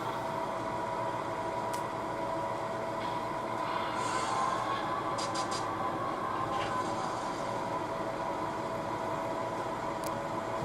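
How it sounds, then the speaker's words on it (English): A local freight train departing during switching rumbles steadily at moderate distance, with faint metallic squeals and clanks over a continuous low roar. "this train is ready to go"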